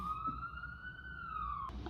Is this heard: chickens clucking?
no